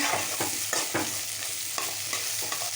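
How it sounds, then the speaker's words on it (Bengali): A jackfruit seed vegetable dish fries in a pan: steady sizzling oil with rhythmic scraping strokes of a stirring spoon, close and continuous. "কিছুক্ষণ এইভাবে ভাজতে হবে, 2 মিনিট ভাজতে হবে।"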